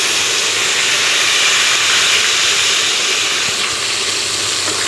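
Ginger paste and green chili paste fry in hot oil in a pan, giving a loud, steady sizzle and hiss that fills the whole stretch without any talking.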